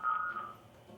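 A telephone tone sounds live on air during a call-in broadcast: a single steady beep, moderately loud, lasting about half a second before fading into quiet room noise.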